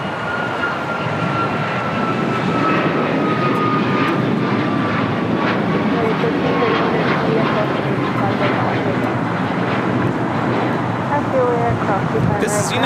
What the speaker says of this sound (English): This is United Airlines 2039 taking off to Chicago on a MAX 9.